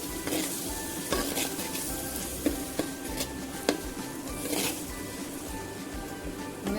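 Chickpea curry masala sizzles loudly in a pan while a spoon stirs and scrapes through it, with several sharp clinks against the metal over the constant frying hiss.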